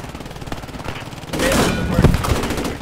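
A World War II tank shooter game lets off a heavy gunfire burst that begins partway through and rolls on with loud rattling shots over steady background noise. Voices speak faintly underneath.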